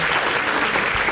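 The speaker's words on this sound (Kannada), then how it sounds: "ಒಂದು ಜೋರಾದ ಚಪ್ಪಾಳೆ ಬರಲಿ." Applause from an audience at a yoga event, a dense wash of steady clapping filling the whole moment at moderate loudness.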